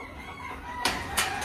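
Faint clucking and short bursts of rooster crowing over a quiet background hum, with two quick loud calls near the end.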